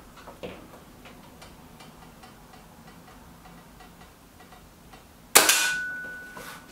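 A Kral Puncher Knight air rifle fires once at a paper target: a loud, sharp crack near the end, followed by a ringing metallic tail, after a stretch of quiet faint ticking.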